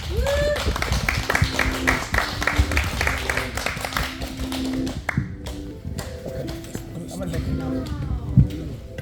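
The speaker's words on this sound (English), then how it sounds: "Give them a round of applause for you guys." An audience at a live-streamed event applauds, with steady clapping running throughout, a loud and close wash of hands mixed with voices and a few brief tones, easing somewhat toward the end.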